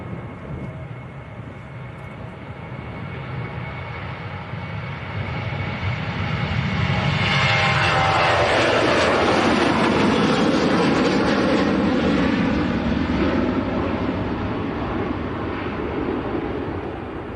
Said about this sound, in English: Next to go, Ryanair to Dublin. 737-800.